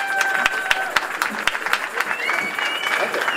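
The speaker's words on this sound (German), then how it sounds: "Applaus für Dietmar Lukas." Crowd applause at a May Day rally in Berlin, steady outdoor clapping from many people with a few sharper claps standing out near the front and faint voices mixed in.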